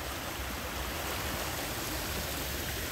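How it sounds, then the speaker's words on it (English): Flood water flows outdoors in a steady, dense rushing hiss, constant and moderately loud with no pauses or other sounds standing out. "you barely can see the water flooding, but you hear the sound of the water"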